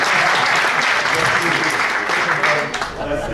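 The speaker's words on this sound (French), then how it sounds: "Ok, on applaudit quand même une dernière fois." Sustained applause from an audience of mayors on a study trip in Ireland, dense and steady throughout, with voices mixed in underneath.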